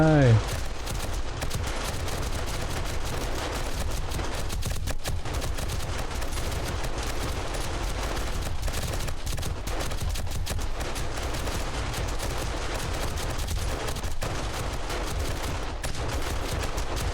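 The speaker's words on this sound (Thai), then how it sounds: "เราช่วยยิงจากไกลๆแล้วกัน ยิงข้างบนนะ" Rapid gunfire from guns and automated turrets in the video game 7 Days to Die rattles continuously and loudly throughout, a steady stream of bursts with players talking over it.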